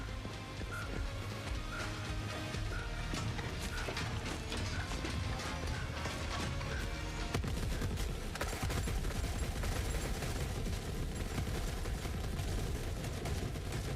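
Combat in Forever Winter with dense, rapid gunfire and turret fire, a steady stream of overlapping mechanical shots and impacts that stays loud throughout.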